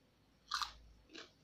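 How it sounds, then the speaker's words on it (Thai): Crunchy chewing as someone eats rice with chili paste and fried mackerel by hand, two close bursts of biting and munching, the first louder and the second softer, with no talk. "กินน้ำพริกมันต้องกินอย่างนี้มันถึงจะอร่อย"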